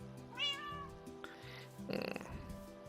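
A cat in Minecraft meows clearly once, a short rising-falling call up close, followed by faint game sounds and a brief crackling rustle, with no speech.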